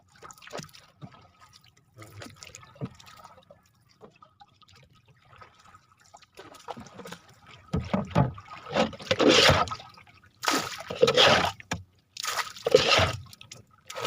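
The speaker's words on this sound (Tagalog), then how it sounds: "Mamangka tayo." Water sloshing and splashing in uneven strokes, quiet at first then growing louder and nearer, like a paddle dipping beside a small boat.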